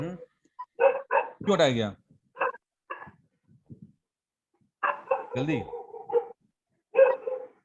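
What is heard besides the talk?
dog barking loudly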